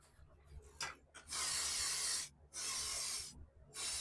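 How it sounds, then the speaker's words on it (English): Spray paint hisses from an aerosol can onto a cabinet cubby in several long bursts, loud and close, separated by short pauses. "We'll see whatever the inside will do with the spray paint"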